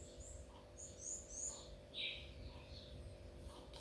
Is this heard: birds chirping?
yes